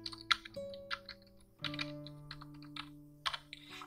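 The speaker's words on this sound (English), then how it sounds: "Type your password again" Password being typed on a computer keyboard while signing up for a Wix account: a quiet run of irregular key taps in short bursts with brief pauses, close by, with a faint steady hum underneath.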